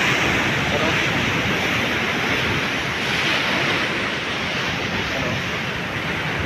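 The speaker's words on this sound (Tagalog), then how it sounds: "Malaki na mga alon dito guys" Big ocean waves break and surge in a continuous loud wash of surf, close by with wind buffeting the microphone and a voice talking over it.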